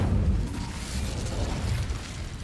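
The Incendio fire spell cast in Hogwarts Legacy, a loud, rushing fiery burst with a low boom at the start that roars on steadily.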